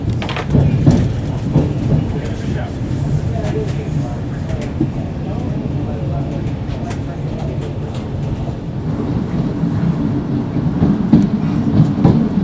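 An LNER Intercity 225 train runs toward Newcastle, a steady low rumble with rhythmic wheel clatter heard from inside the carriage, continuous and fairly loud, with a voice talking over it.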